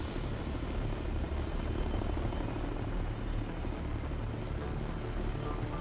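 A steady, continuous helicopter rotor and engine drone from the video game Ghost Recon: Future Soldier, heard alone at low volume as an even, unbroken rumble with no speech.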